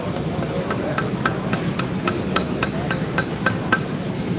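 A hammer forges the bevel on a knife blade at a live Texas custom knife show, striking in a steady rhythm of sharp metallic blows roughly four times a second, close over a low background hum.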